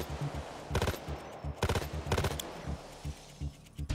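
Assault rifle fire in Payday 2 comes in several short, sharp automatic bursts separated by brief pauses, loud and close, with no voices.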